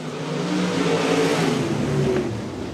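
Engines of sportmod and sprint cars at Stuart Raceway roar together as the field accelerates from the race start, a loud, steady rising drone of several cars blending into one continuous rev.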